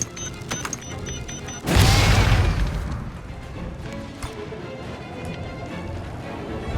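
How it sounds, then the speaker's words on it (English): A grenade explosion in the Star Wars Zero Company video game hits as a loud broadband boom about two seconds in, then settles into a lingering rumble. Softer game effects surround it. "if you're the last enemy, I should just grenade you."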